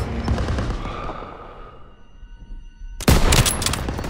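Machine gun turret fire in the Call of Duty: WWII video game, with rumbling battle noise that fades, then a sudden loud burst of rapid automatic gunfire near the end.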